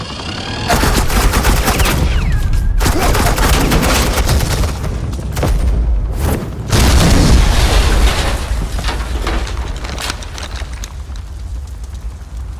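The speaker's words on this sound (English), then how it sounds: "I said suppressing fire!" Dense bursts of suppressing gunfire in a Batman Telltale video game, loud and sustained volleys of automatic fire with brief pauses and booming impacts, no voices.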